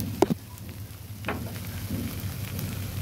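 Ghee spooned into a pan of banana stem curry, a faint steady sizzle with a couple of sharp clinks at the start, then a soft continuous frying hiss.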